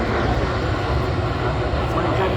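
An Airbus A380-800 at Manchester Airport produces a loud, dense engine roar that stays steady and broadband for the whole moment, close and constant with no gaps.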